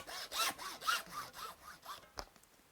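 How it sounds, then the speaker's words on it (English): Hacksaw cutting through plastic pipe for a misting propagation bench, a close rasping cut of about six quick back-and-forth strokes ending in a sharp snap as the pipe parts, no talk. "you could use a hacksaw to cut the pipe. It works quite well. 2 or 3 cuts like that"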